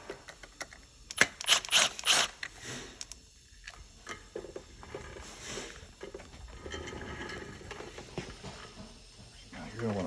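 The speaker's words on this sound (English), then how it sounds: "we're going to start off taking off these screws right here for your cylinder adjustments" Screws on an Aeron office chair's cylinder adjustment mechanism are loosened, giving close ratcheting clicks and metallic turns in uneven bursts, louder near the start.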